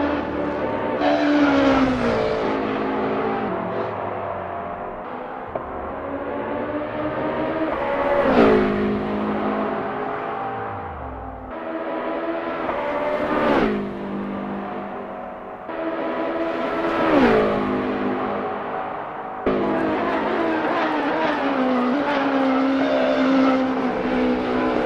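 LMDh hybrid race cars warming up at Road America in Assetto Corsa, their engines rising in pitch through the gears, then dropping at each shift, repeating over about 25 seconds, loud and close with occasional tire noise.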